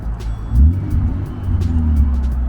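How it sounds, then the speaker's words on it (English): A Lexus SC300 with a muffler delete idles and burbles, a deep steady exhaust drone with a brief swell as it blips, heard close and alone. "That's the muffler delete."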